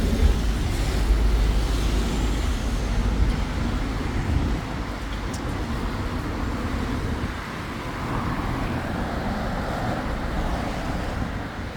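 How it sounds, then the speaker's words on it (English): Heavy road traffic on busy Otley Road in Leeds, heard as a continuous loud roar of passing vehicles with a steady rumbling wash and no speech. "Whatever this traffic, it's horrendous."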